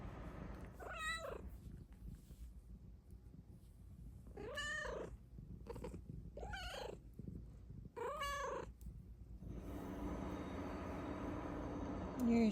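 A female cat lets out four distinct, drawn-out meows spaced a couple of seconds apart, close and clear, with a soft steady purr rumbling beneath and continuing alone at the end.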